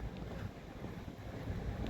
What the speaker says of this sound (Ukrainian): Коротше, вітер, капець, холодний.